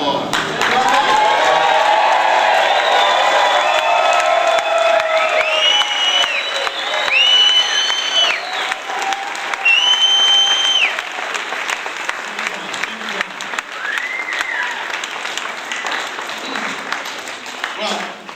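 A comedy show crowd in San Francisco stands and applauds loudly, with dense clapping, whoops and whistled cheers rising over it, then easing off into thinner applause with voices shouting in the hall.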